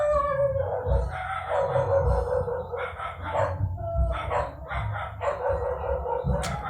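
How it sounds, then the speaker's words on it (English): Several dogs bark and yelp in the background, a rough, continuous mix of barks and howl-like cries throughout, fairly distant rather than close to the mic. "I'm very, very sorry if you can hear the dogs"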